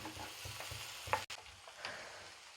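Beaten eggs sauté in a pan, a soft steady sizzle broken by rhythmic scrapes and clinks of a spoon stirring against the metal, close and fairly quiet.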